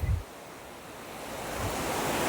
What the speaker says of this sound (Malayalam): നമ്മൾ വെള്ളച്ചാട്ടത്തിൽ എത്തിയിട്ടുണ്ട്